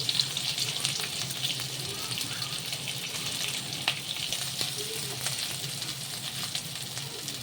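Onions frying with whole spices in a pan for a mutton boti fry, producing a steady, moderately loud sizzle with scattered pops and light stirring, with no talking.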